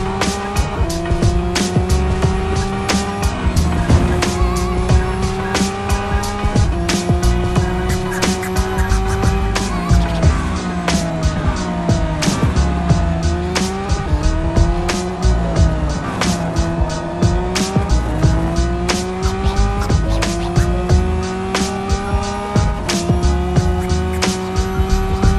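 In Real Racing 3, a Lamborghini Essenza SCV12 with a 12-cylinder engine races hard, its loud engine climbing and dropping through repeated gear changes. Tires squeal again and again through corners over a steady, dense roar.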